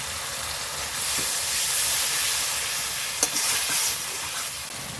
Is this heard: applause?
no